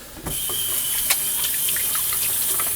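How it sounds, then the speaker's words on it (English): Tap water runs steadily into a kitchen sink while hands are washed, a close, continuous hiss and splash that starts suddenly and holds even, with small splashes on top. "I'm just going to slide here, wash my hands."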